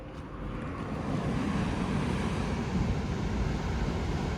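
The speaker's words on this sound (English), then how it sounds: "Let's have a look at the waves out there." Ocean waves wash onto a beach in a steady, broad roar that swells slightly after the first second, with wind noise mixed in and no talking.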